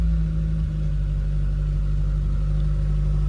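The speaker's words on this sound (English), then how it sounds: "See, the choke's off. High idle a bit." An engine idles a little high with the choke off, a steady, loud low rumble that holds an even, unbroken note throughout, with no talk.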